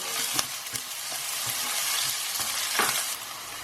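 Diced onions sauté in a pan for a vegan cauliflower and pepper masala, giving a steady close hiss of sizzling broken by scattered clicks and scrapes of stirring.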